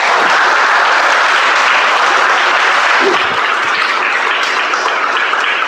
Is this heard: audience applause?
yes